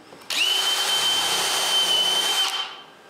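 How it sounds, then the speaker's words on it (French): Power drill driving a screw into plywood in a woodworking shop, a loud single burst of whirring motor that kicks in sharply, holds steady for about two seconds, then winds down. "Puis je le visse en place."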